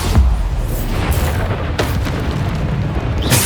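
A Bombarda spell explodes in the Hogwarts Legacy video game, a loud booming blast with a rumbling tail that fills the whole moment, dense and sustained, with no speech over it.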